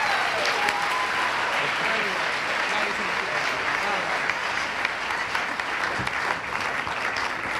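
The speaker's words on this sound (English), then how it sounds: "A big round of applause for Ryan Lewis." Sustained audience applause at a high school class night awards ceremony, a dense continuous clapping wash with crowd noise mixed in, steady throughout, with faint voices or cheering underneath.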